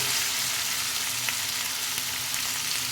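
A mix of vegetables tipped into hot oil for a rohu fish curry, frying with a dense, loud, continuous hiss and sizzle close up, steady throughout, with no voices.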